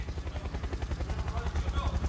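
A helicopter, likely an air ambulance, passes overhead during a live rock concert in Tamworth, heard as a steady low rhythmic rotor chop that fills the clip with a dense, continuous thudding.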